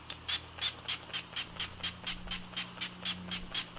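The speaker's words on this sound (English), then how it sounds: "I'm going to take my NYX setting spray and spray my face." NYX setting spray misted onto a face in a steady series of about a dozen quick, evenly spaced hissing bursts, close to the microphone with no talk.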